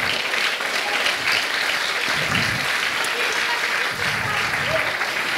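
An audience at a European Green Party event applauds to thank its president, Reinhard Bütikofer: dense, sustained clapping from a large crowd, steady and fairly loud throughout, with faint voices mixed in.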